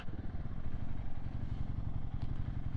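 A Kawasaki Versys-X 300 motorcycle idles and putters through a slow U-turn, its small engine throbbing steadily and close throughout with a faint clatter.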